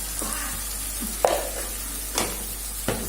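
Turmeric being stirred into fenugreek leaves frying in a pan, a soft steady sizzle broken by a few distinct scraping stirs of the spoon.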